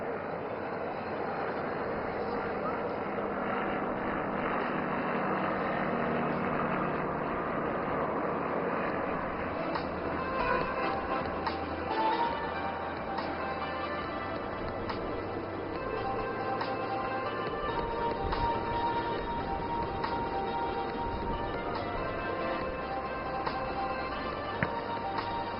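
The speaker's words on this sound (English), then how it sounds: "Now aircraft is entering into a maneuver of making figure of 8." An aircraft flies a figure-of-8 maneuver at the Aero India airshow, a steady broad engine roar that holds for the whole span with slight swells, heard at a distance.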